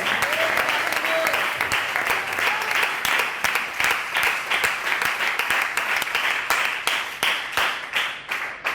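Applause for the Lord from a church congregation during a Bible study on Hebrews, a long sustained wave of dense clapping with sharp individual claps growing more distinct toward the end.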